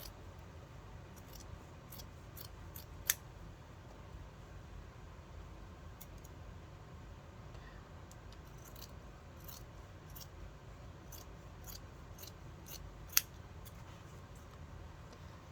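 Scissors cut through felt in a series of quiet, scattered snips and clicks, close but soft, over a steady low background hiss, with two sharper clicks standing out.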